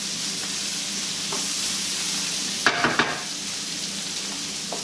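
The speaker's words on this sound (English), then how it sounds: "we're going to go ahead and add in the mushrooms next" Mushrooms sautéing in an oiled pan for an Italian-style chicken and vegetable dish, a steady close sizzle with a few brief utensil stirs and scrapes partway through.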